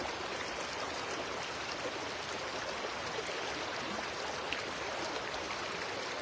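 Flowing river, a steady even wash of running water, continuous and unchanging, soft and distant-sounding with no voices.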